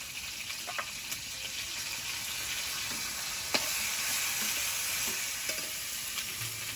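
Ginger garlic paste frying with fried potatoes in a pan, a steady close-up sizzle broken by occasional clicks and scrapes from stirring.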